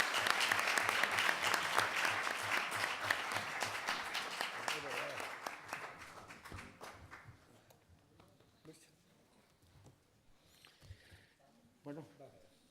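Audience applause at a memorial event for families of people repressed during the war, dense clapping for about six seconds that thins into scattered claps and murmured voices.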